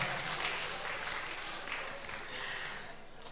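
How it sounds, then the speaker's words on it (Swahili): A church congregation at a revival seminar breaks into dense, steady applause that fills the space evenly and swells slightly near the end, with faint voices mixed in. "Wapigie makofi."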